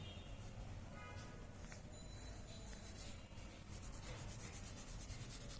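Colour is rubbed onto paper during a simple drawing, a faint, continuous close scratchy rubbing with soft strokes.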